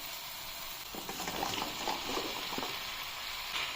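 Boiled jackfruit flower goes into hot oil with softened tomatoes and sizzles steadily, with a brief rise in crackle and a few soft stirring sounds in the middle.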